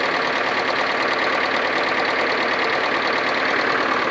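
A John Deere 440 skidder's engine idles close by in a steady, continuous diesel rumble with a faint knocking texture, loud and alone with no talking.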